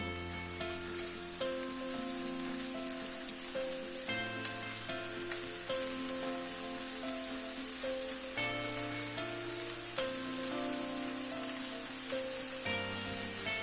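Green beans sizzle steadily as they go into a pan of sautéed onions and peppers, with a constant crackling hiss under background music.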